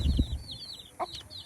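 Chickens by a coop give soft clucks and a rapid run of high cheeping peeps, with a low fluttering rustle at the start and a short chirp partway through.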